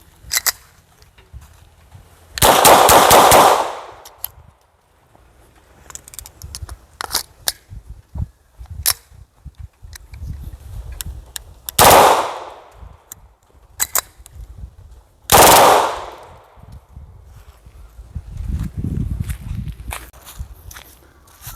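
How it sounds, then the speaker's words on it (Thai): A Blow TR 92 blank pistol fires close by: three loud, sharp shots spaced several seconds apart, with quiet handling clicks and rustling between them. "แบงกันโบรทีอาร์เก้าสอง"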